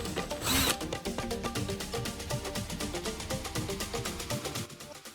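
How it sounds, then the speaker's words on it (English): A drill bores into the center of a metal bottle cap, a steady stream of dense rapid clicking and grinding lasting several seconds, with a brief loud hissing burst near the start. "drill a hole in the center of one cap"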